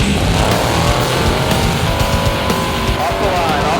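Off-road race vehicle at the 2013 Mint 400 launching off the start line, a loud, steady engine roar with rising revs and tire noise, close by, with crowd or announcer voices mixed in.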